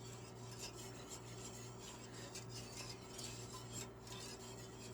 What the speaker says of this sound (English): You want to stir your milk every now and then. That way it doesn't burn in the bottom of the pot.